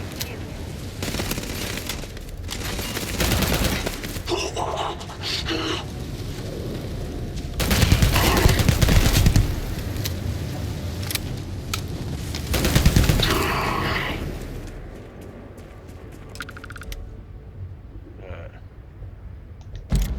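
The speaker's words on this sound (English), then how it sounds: "Got a minigun." Minigun fire in the video game Starfield comes as long sustained bursts of rapid shots mixed with booms and heavy combat noise, loudest in the middle, while a player talks over parts of it.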